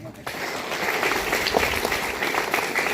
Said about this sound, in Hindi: अपनों के लिए तालियां हो जाए